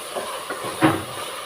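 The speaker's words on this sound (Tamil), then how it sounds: "இப்போ நான் இதோட சிக்கனை சேர்க்குறேன்." Chicken is added to a hot pan to sauté for biryani, giving a steady close sizzle and hiss with a brief louder surge partway through, and no voices.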